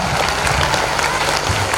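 An audience at a school annual function claps continuously in dense, loud applause throughout the short moment.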